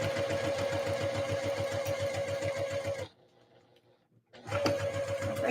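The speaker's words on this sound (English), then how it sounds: "All right, sewing up this other seam, 1/2 inch seam allowance." A sewing machine stitches a dress seam with a half-inch allowance in a rapid, steady whir, pauses for about a second and a half, then starts running again.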